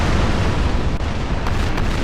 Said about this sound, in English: A lot of firing going on.